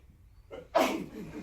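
One sharp, close human sneeze bursts out after a short breathy intake. It is brief and loud against a quiet room.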